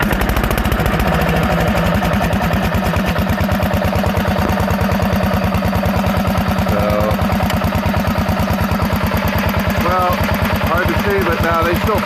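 A Power King tractor engine cranks and runs with a rapid, steady mechanical chugging that stays loud and even throughout, with a voice faintly present in the background.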